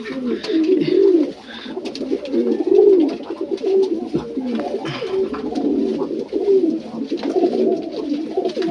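Pigeons in a loft coo in soft, rolling bursts, several birds calling close by in overlapping phrases that rise and fall steadily, with faint rustling and a low murmur of voice in the background.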